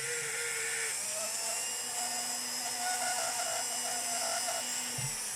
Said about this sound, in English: So first we're going to just grind the top and make it flat.